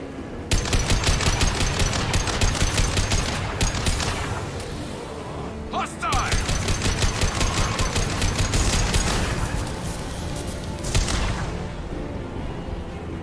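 Sustained hostile gunfire in the video game Mass Effect 2, dense rapid automatic bursts running almost the whole time with a brief break in the middle, loud and close, under occasional voices.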